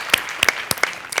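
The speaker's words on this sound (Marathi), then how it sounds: "जोरदार टाळ्या" A few scattered, separate claps ring out close by during a bhajan singing program held at home, sharp and brief with short gaps between them rather than a sustained wave.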